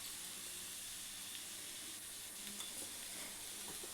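Cauliflower and egg curry, seasoned with garam masala and coriander powder, frying in a pan with a soft, steady sizzle that stays faint and even throughout.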